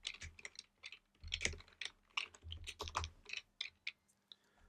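Code is typed on a computer keyboard in quick, uneven bursts of close, crisp key clicks with short pauses between them.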